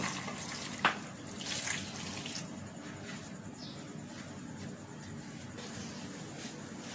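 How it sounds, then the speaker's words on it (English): A glass of water is poured into a pressure cooker of lamb trotters, a soft splashing trickle with a sharp splash near the start, fairly quiet and close, with no speech. "And I use a glass of water."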